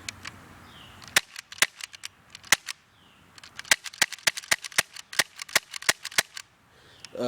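H&K USP CO2 airsoft pistol firing a long series of sharp, close cracking shots, some spaced apart and others in quick irregular bursts, loud against a quiet background.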